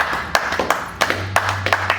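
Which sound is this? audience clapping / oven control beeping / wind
audience clapping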